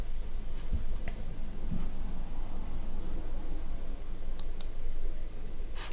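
A computer mouse gives a handful of faint, sharp clicks, spaced irregularly with one double click near the end, over a quiet background hiss.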